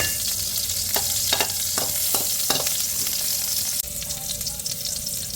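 Green chillies sizzle in hot desi ghee with a steady broadband crackle, and a series of sharp clicks and scrapes sound as they are stirred in the pan, with no talking.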